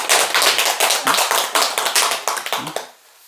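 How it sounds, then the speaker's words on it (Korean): A small group claps together at a Buddhist temple lecture on the Vimalakirti Sutra, a brief burst of close, rhythmic hand claps that stops abruptly after about three seconds. "박수 한번 칩시다."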